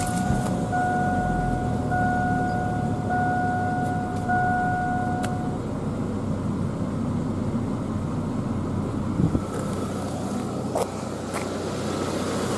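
A GMC Sonoma pickup truck engine, with a new belt and tensioner and an evap fault, idles and rumbles steadily at close range with no one talking, while a faint whine fades out early on.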